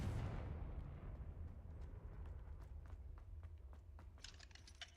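A Confringo spell explodes in the Hogwarts video game, opening with a loud blast that rumbles and fades over a couple of seconds, followed by quieter scattered clicks and taps.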